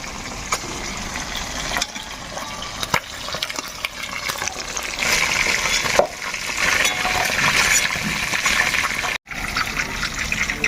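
Potatoes fry in hot oil in a Bengali kitchen, a steady crackling sizzle with intermittent stirring scrapes and clatters, growing denser in the second half with a brief drop-out near the end.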